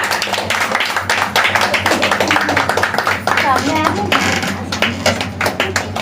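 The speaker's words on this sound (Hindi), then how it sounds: "ताली तो बजावा" Clapping at a baby shower (godh bharai) in a home, a run of quick hand claps under women's chatter and background voices, with a steady low hum throughout.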